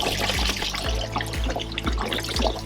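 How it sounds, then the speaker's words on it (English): Dirty laundry water poured out of a washing tub aboard a sailboat, a steady splashing gush with soft trickling and regular dips in flow, close and fairly loud with no talking. "I'm gonna dump it out because it's just foul looking water"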